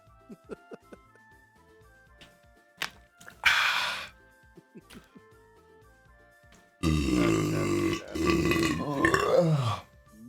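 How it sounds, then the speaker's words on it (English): A long, loud, rumbling burp after drinking a whole 2-liter bottle, preceded by a shorter burst of breath and scattered small mouth sounds, heard alone and close. "that wasn't even anywhere near a burp that I would expect from a 2-liter being consumed"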